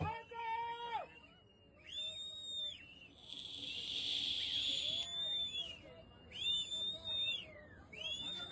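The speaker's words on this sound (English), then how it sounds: "People are whistling at me." Several rising and falling whistles, some drawn out and some short, over a background of murmuring voices and talk.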